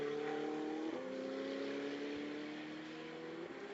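Ferrari Challenge race cars circle the Indianapolis circuit on installation laps, their engines a faint, steady, distant whine with slight pitch shifts as the cars pass.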